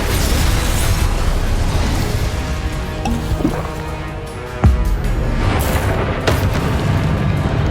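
Spell blasts in Hogwarts Legacy, including fire and explosive casts, go off as dull booms and bursts over a dense rumbling game bed, with one sharp loud impact near the middle and smaller pops around it.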